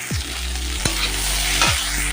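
Spices with turmeric powder frying and being stirred in a hot pan for a cauliflower and potato dish, a loud continuous sizzle close up with a few sharp scraping strokes of the spatula.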